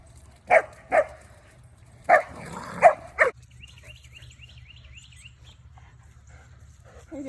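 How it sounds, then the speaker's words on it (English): A dog barks five times in sharp, loud bursts spread over about three seconds, then stops, leaving a quiet room with faint squeaky tones and low background hum. "my dog is an absolute psycho"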